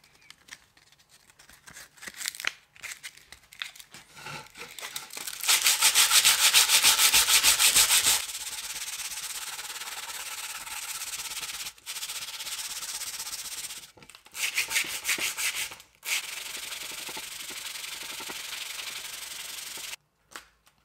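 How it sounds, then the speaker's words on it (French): Sandpaper is rubbed by hand over wood being shaped for a leather knife strop, a close, dry scratching in long steady passes with pauses between bursts. "Ça va être un petit ponçage du bois pour faire quelque chose quand même d'assez propre."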